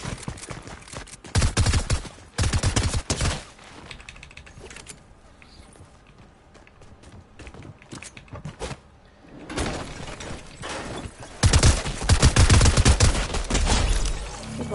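Video game gunfire in bursts, loud volleys at the start and again toward the end, with a quieter stretch in the middle; no talking.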